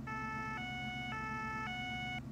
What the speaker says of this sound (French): enfin, c'est la sirène, pardon.